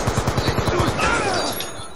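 Automatic gunfire in the video game Black Ops II, a rapid rhythmic burst of shots lasting about a second, then fading into mixed game noise and a voice.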